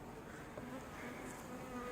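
Honey bees buzz over a comb frame in a hive during a July honey flow, a steady faint drone of many insects with no talk.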